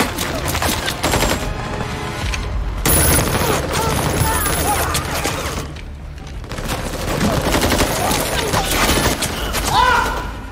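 Intense, rapid gunfire and automatic bursts in a chaotic action-film battle with cartel gunmen, loud and continuous, with a brief lull midway and voices mixed in.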